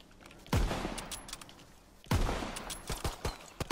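Two loud pistol volleys in Call of Duty WW2, each a sharp crack followed by quick follow-up shots and a decaying echo, close and punchy against a quiet background.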